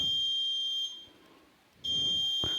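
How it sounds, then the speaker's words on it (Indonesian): A prayer-time clock alarm beeps loudly in a steady high-pitched electronic tone, cuts out for about a second, then resumes at the same pitch. "Nah, bunyi alarm seperti ini."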